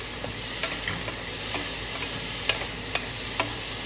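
Onions and tomatoes fry in a pan with a steady, dense sizzle at close range, broken by a few faint ticks of a utensil touching the pan.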